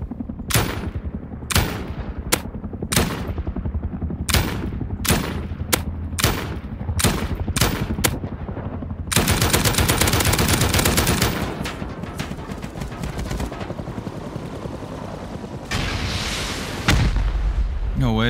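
Explosive bursts and gunfire from an attack helicopter and rockets in the video game Rust, loud, repeated sharp blasts at a fast irregular rhythm, then a long dense roar of sustained fire and rumbling.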